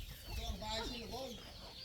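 A chicken clucks in several short rising and falling calls, close and fairly faint, while people talk nearby.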